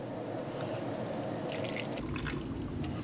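Water being poured into an Indonesian T2-PJ freeze-dried ration pack, a steady close trickle of liquid running for about three seconds with no talking.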